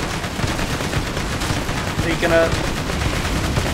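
A weak machine gun in Borderlands 2 fires bursts of rapid gunfire amid game sounds, with a player speaking over it.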